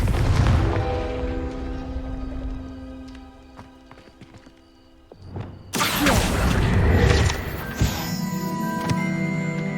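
Confringo fire spell blast in Hogwarts Legacy, a sudden loud fiery explosion bursting midway after a quieter stretch, followed by crackling rumble and lingering debris noise amid horse hoofbeats and game ambience.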